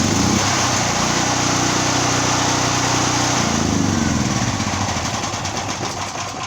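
A Tahoe ti9000lxu generator engine runs loud and close, a rough, buzzing small-engine drone that shifts in tone midway and then keeps chugging steadily with no talk.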